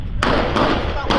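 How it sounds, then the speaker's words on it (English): Heavy gunfire in the streets of Port-au-Prince, Haiti, sounds as three sharp, loud cracks spaced unevenly over a little over a second, close and harsh against a noisy background. "Heavy gunfire rang out in Port-au-Prince after a Haitian gang leader, Jimmy Cherizier"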